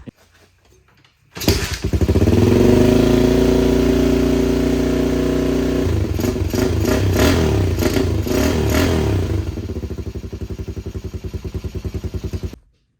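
A Volvo Penta SX Cobra 4.3 boat engine cranks over loudly and continuously for about eleven seconds, its starter churning with a steady rhythmic pulse that never catches, then it stops abruptly.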